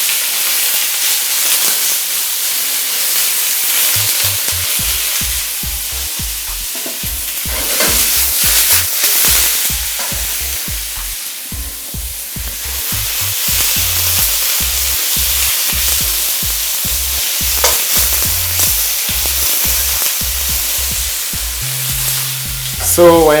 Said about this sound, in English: So this process is started by sealing the pores in the beef to retain the juices inside the beef.